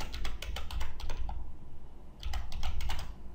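Close, crisp keystrokes clatter on a computer keyboard in quick bursts, pausing briefly midway before another rapid run of typing, with no talk.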